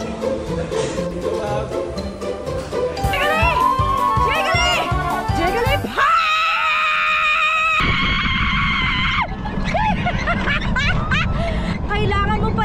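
People scream and laugh loudly during a race game in which shouting boosts speed, with excited overlapping voices, chuckles and bursts of shrieking throughout.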